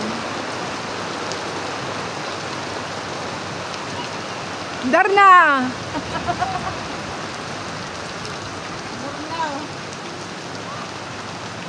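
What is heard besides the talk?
rain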